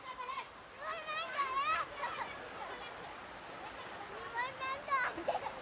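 Rain falls steadily as a continuous soft hiss, growing heavier, with voices talking over it.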